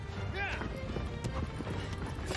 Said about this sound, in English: Triangle moves the horse.